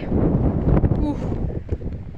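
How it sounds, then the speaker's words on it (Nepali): Wind at Chovar, Kathmandu, blows across the microphone as a low, rumbling buffet with uneven gusts, while a voice speaks close by. "यस्तो हावा चलिरहेछ"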